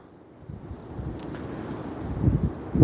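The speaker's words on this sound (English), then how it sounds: "The old wind's picking back up again." Wind gusting across an open fishing lake, a steady low broadband rush that swells and grows louder toward the end, with no talking.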